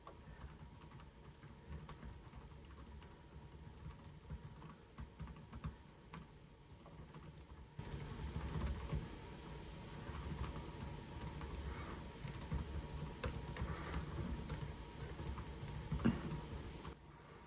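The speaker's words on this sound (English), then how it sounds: "let's do a quick typing test here" Quiet, steady typing on a Lenovo Legion 9i laptop keyboard, a rapid patter of soft key clicks that continues throughout and grows slightly busier partway through.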